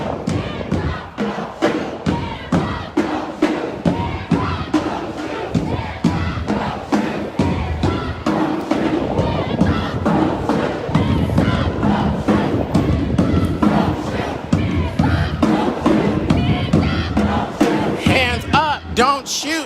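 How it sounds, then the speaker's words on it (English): A large protest crowd at a Black Lives Matter rally by the Capitol Building in Lincoln chants "don't shoot" in a loud, steady rhythm, with rhythmic claps or thumps beating through the whole stretch. "Don't shoot, they're chanting."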